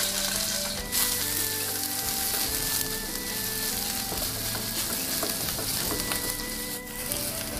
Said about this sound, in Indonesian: Lalu sisakan sedikit minyak, tumis bawang putih dan jahe.